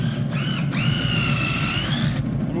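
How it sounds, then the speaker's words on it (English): Power drill whirring as it bores pilot holes near the edge of a 3-foot wooden board, a steady high motor whine with pitch rising as it spins up, close and loud, pausing briefly between bursts. "So we're going to take the drill"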